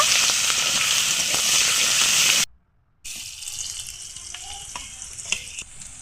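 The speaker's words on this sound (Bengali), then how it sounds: "প্রথমে পেঁয়াজগুলোকে আমি এক মিনিট মতো ভেজে নেব" Two medium onions fry in oil with a loud, even sizzle that cuts off abruptly for a moment, then resumes more softly with scattered crackles and clinks.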